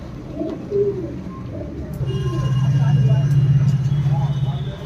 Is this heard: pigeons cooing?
yes